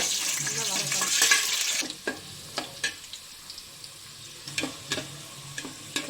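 Garlic sautéing in oil in a pan for a Tirunelveli sodhi: a bright, loud sizzle that drops away after a couple of seconds, followed by a series of scraping, clinking stirs.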